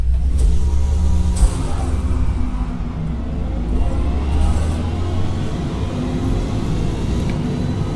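A race car with a modified exhaust system in the Forza Motorsport racing game drones steadily at high revs, with a loud, sustained engine note and brief shifts in pitch.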